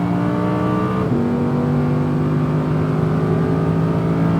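An Audi R8 V10 RWD roars loudly on a race track lap at Speed Vegas, its steady engine drone shifting pitch sharply partway through as it changes gear and pulls again.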